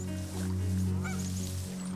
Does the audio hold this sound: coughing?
no